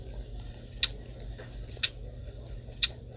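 A person mimics a ticking clock with their mouth, producing three sharp, evenly spaced clicks about one second apart over a quiet, low background hum.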